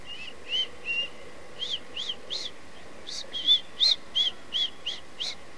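A child whistles short, bright notes repeated in a halting sequence, fairly close, over faint background hiss with no talking.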